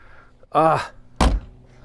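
A Mark I Austin Mini's door is swung shut with a solid, close thunk, preceded by a brief voiced exclamation and followed by a quiet moment.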